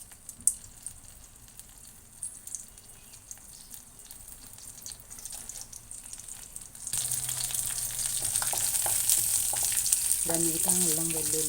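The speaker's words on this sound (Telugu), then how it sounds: "కొంచెం కళాయి పెట్టుకొని అందులో కొంచెం ఆయిల్ వేసుకొని వీటిని శుభ్రంగా వేపుకుందాము." Masala spices are fried in oil in a kadai, starting as a faint crackle with scattered clicks and swelling into a loud, steady, close sizzle for the last few seconds, a brief tonal chirp near the end.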